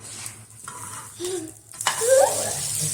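Rice roti frying in ghee on a hot pan, a soft sizzle that swells into loud crackling spitting near the end, with a few scraping stirs, close and without talk.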